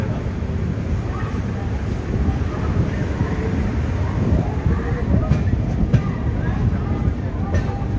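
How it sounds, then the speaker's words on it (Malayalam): Low rumbling of a Vivek Express passenger train pulling out of Bhubaneswar station along the tracks, steady and fairly loud, with wind buffeting the microphone. "ഭുവനേശ്വറിന് ഇതാ ട്രെയിൻ എടുത്തിരിക്കുകയാണ്"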